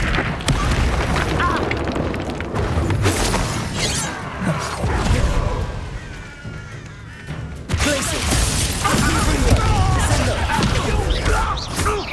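Descendo spell impacts during a Hogwarts Legacy duel: loud crashing booms and smashing bursts spread across the passage, with a brief quieter dip before another heavy burst of impact noise, mixed with shouted spell voices.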